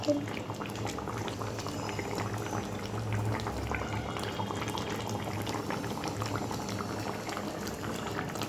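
A pot of bhola fish curry with poppy seed and coriander leaves simmers on the stove, a continuous dense bubbling and popping that holds steady throughout.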